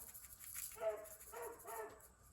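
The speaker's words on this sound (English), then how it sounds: "I'm really trying to ignore this hound dog" Faint hound dog barking in the distance, a couple of muffled bow-wow barks heard across a quiet home kitchen, low and soft.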